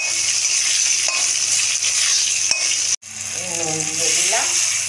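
Potato pieces hit hot oil in a pan for a traditional Bengali hilsa fish curry with brinjal, giving a loud, steady frying sizzle with a short clatter and a brief sharp break midway, and no talking.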